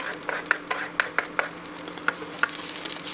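Garlic sautéing in hot cooking oil, a steady close sizzle punctuated by sharp, irregular pops and spatters from the pan.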